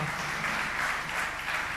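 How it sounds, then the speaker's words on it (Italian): Brief, steady applause from an audience at a women-in-business event welcoming two entrepreneurs on stage, an even wash of clapping without pause. "Un applauso anche per loro se possiamo"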